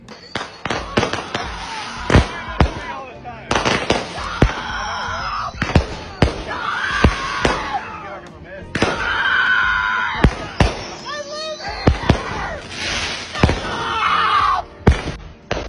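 Fireworks set off by people on the 4th of July bang and crackle in repeated sharp bursts, some loud and close, others scattered, with shouts and voices mixed in between the blasts.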